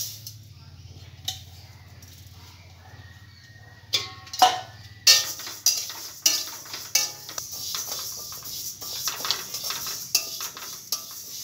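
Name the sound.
moong dal lentils being dry-roasted in a pan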